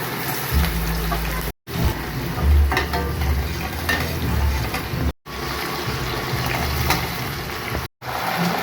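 Fish curry masala being stirred and sautéed in a pan, with continuous sizzling and frying broken by scraping spoon strokes, running steadily with a few brief cut-off gaps and no talking.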